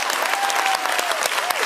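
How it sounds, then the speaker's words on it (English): Audience applause with men clapping, a steady dense patter of many hands close by with sharp individual claps standing out, a faint whistle-like tone drifting through. "And look at all the guys over there clapping."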